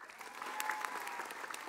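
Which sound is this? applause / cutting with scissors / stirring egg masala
applause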